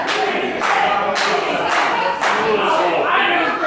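Live wrestling event crowd roaring and chanting in sustained, rising waves, dense and loud throughout, with surges of cheering every second or so as fans rally behind a wrestler.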